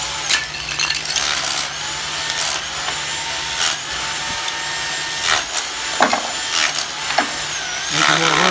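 Plaster being stripped from a swimming pool shell near the diving board, with rough scraping and chipping and a few sharper knocks as chunks break loose, over steady background noise.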